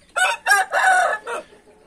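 A rooster crows once nearby, a loud, clear call in several distinct bursts with a long drawn-out middle note, followed by quiet.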